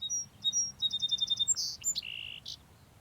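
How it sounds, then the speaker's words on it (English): Small birds singing nearby, with a run of quick high chirps and whistled notes in rapid series, followed by a few sharper tweets over quiet background. "Bird sounds?"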